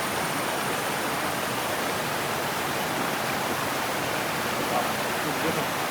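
Steady broadband roar of water pouring down a waterfall on a trekking trail, loud and continuous throughout with no break or change in intensity.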